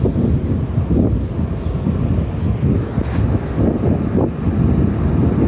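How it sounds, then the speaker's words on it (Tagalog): Strong wind on a rooftop buffeting the microphone with a constant low rumbling roar and gusty surges, no voices. "ang sobrang hangin."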